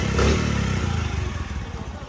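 A 1998 Honda CD 50 motorcycle with red decals and about 2000 km on it runs close by with a steady, low, throbbing idle putter that holds even for about two seconds.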